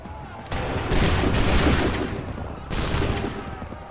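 Massed musket volleys crack out in the Assassin's Creed 3 battle at Bunker Hill, dense rolling gunfire swelling loud and sustained, with a second volley bursting in near the end and shouted commands mixed under it.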